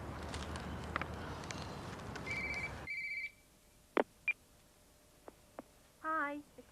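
A landline telephone rings in a home in Brookside, a couple of electronic trills breaking a sudden quiet after a busy room, with sparse footsteps and knocks between rings.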